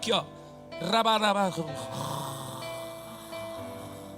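A man imitates loud snoring with his voice while kneeling in prayer, a few drawn-out rasping snores followed by a quieter sustained tone.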